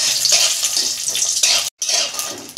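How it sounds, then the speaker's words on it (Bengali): Bori (lentil dumplings) fry in white oil in a kadai, a loud, close, continuous sizzle with a stirring scrape, a split-second gap, then more sizzling. "বড়িটাকে ভেজে তুলে নিই।"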